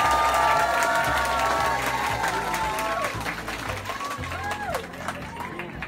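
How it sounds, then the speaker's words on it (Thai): Crowd applause and cheering at a Khon Kaen market event for actor Nadech Kugimiya and his family, steady clapping mixed with shouts and music beneath, with talk over it. "ต้องขอเสียงปรบมือคุณณเดชคุณจิริยะและ"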